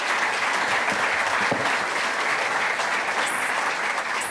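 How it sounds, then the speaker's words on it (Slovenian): Loud, dense applause from an audience fills a tourism awards ceremony, a sustained wash of many hands clapping at once from start to finish. "Podatek, ki si zagotovo zasluži en velik aplavz."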